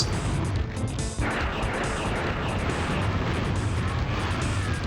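Video game explosions from a destruction-themed game, dense continuous blasts and crashing noise with a rapid repeating ticking pattern layered over a loud, rough roar.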